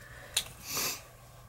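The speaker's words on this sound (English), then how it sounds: "I apologize for my sniffles." A person with a cold gives a single short, wet sniffle, quickly followed by a softer, longer breathy sniff, close to the microphone in a quiet room with no talking.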